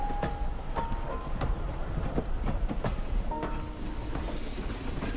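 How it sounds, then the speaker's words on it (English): A train rumbles along the tracks with rhythmic clacking wheels and a few brief squeals, steady and fairly close, no voices. "Anytime we have a train like this out on the railroad, it's magic time for people."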